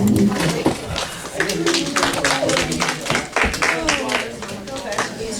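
Audience claps in a quick run of crisp, close claps, with voices murmuring underneath throughout.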